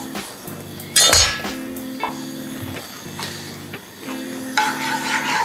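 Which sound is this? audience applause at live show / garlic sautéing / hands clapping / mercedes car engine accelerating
garlic sautéing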